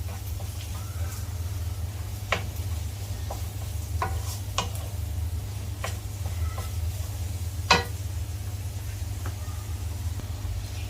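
Onions and tomatoes with salt frying in a pan for a Kerala-style venison roast, a steady soft sizzle under scattered clicks and scrapes of a spoon stirring against the pan.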